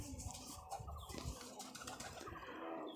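Low, soft coos of a kept pigeon that has just begun gathering nest straw repeat close by against faint rustling and background noise. The whole recording is quiet.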